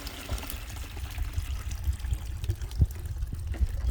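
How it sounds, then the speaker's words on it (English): Water pours and trickles steadily through gold clean-up equipment outdoors, a continuous low splashing flow with occasional louder spatters, no voices over it. "So let me turn the water off over here"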